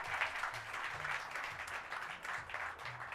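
A crowd at a Hollywood Walk of Fame star ceremony claps steadily, a bright, continuous round of applause from many hands outdoors, holding at an even level with a faint voice underneath.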